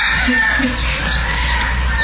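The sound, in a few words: chickens clucking and crowing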